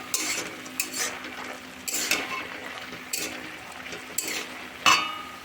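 Drumstick greens being stirred in a cooking pot after the lid comes off, with repeated scraping and clattering strokes of a utensil against the metal over a faint sizzle and steady kitchen hum.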